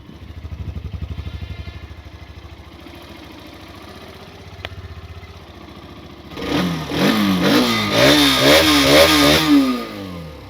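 A 2024 Hero Xtreme 125R, a 125cc motorcycle, idles with a low, steady engine rumble and then breaks into loud, repeated revving with rising and falling pitch, close up and without talk.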